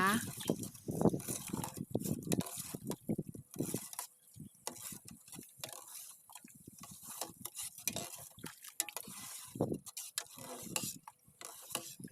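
Sugar being stirred into Thai longan drink syrup with salt and pandan leaves in a pot, giving intermittent scraping, clinking strokes at close range in irregular bursts, with a voice at times.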